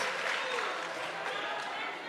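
Applause from a crowd of delegates at a provincial political party conference, a steady dense wash of clapping that holds level for the whole stretch without pause.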